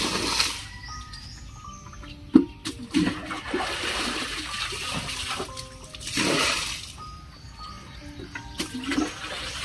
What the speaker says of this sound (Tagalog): Mauubos ang oras mo dyan sa kakakuha ng tubig.